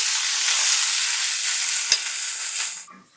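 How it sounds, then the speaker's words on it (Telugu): Onions frying in hot oil in a pan, a loud continuous sizzle held close and steady, then a single sharp tap before the frying suddenly drops away at the end. "సో ఫ్రైడ్ ఆనియన్స్ రెడీగా ఉన్నాయి."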